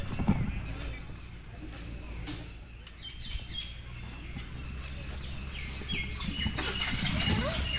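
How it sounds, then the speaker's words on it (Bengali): Birds chirp and call intermittently around an outdoor roadside snack stall in the Dooars area of Jalpaiguri, over a low murmur of people and movement. "চারিদিকে পাখির আওয়াজ"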